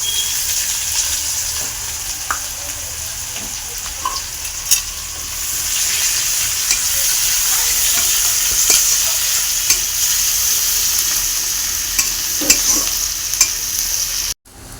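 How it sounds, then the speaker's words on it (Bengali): Chopped onion and green chili fry steadily in a pan, a continuous close sizzle with occasional stirring clicks and scrapes throughout, no voices. "বন্ধুরা এখানে পেঁয়াজটা ভালো করে ভেজে নিয়েছি"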